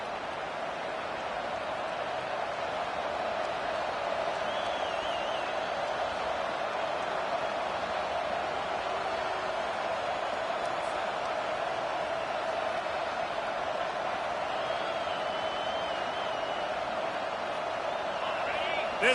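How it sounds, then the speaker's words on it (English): Stadium crowd in the NCAA 25 college football video game, a loud, steady roar of thousands of fans that holds unbroken throughout, with faint whistle-like tones rising over it now and then. "This crowd bringing an ear-splitting welcome to their visitors."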